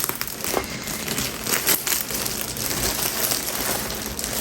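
Dry crinkling and crackling of a plastic packet of yarn being opened, steady and close, with brief louder crunches and no talking.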